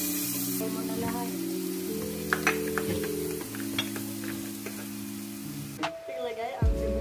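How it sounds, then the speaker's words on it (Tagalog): Garlic sautés in hot cooking oil with a faint sizzle and a few light stirring clicks, under a steady low hum with tonal background sound. "Lagyan ng mantika. Igisa ang bawang."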